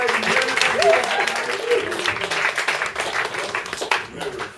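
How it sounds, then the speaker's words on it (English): Studio audience applause at a game show, a continuous wash of clapping with cheers and voices mixed in, holding steady throughout with a brief swell near the end. "A round of applause."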